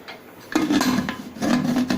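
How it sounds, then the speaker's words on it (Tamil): Metal lid placed onto a pot holding rice, lentils, water and milk for sweet pongal, scraping and clinking in two short bursts, close by with no talk. "இப்போ இதை மூடி போட்டு"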